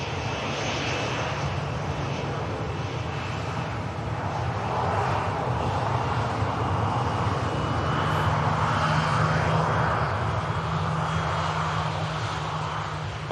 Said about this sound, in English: Ryanair heading out to Rovaniemi.